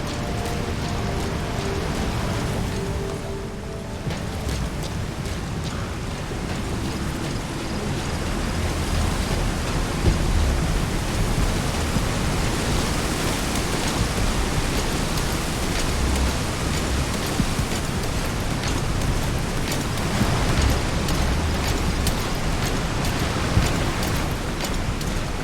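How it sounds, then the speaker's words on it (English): Heavy, steady rain hisses and patters throughout, with low rumbles of distant thunder rolling underneath, in the video game Metal Gear Solid V: The Phantom Pain. "Caution, rain approaching."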